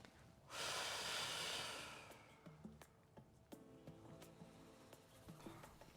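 One slow, deep breath drawn in close to the microphone, a long airy rush that fades, then quiet breathing with small soft clicks.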